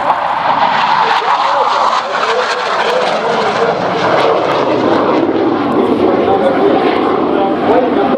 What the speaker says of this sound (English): The afterburner on the aircraft. High-speed pass